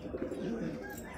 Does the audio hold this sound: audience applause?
no